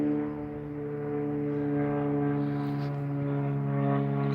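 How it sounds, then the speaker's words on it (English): Constant speed propeller airplane flying over, a steady droning hum with strong tonal harmonics that swells slightly and holds throughout, heard alone. "Here comes a constant speed prop airplane."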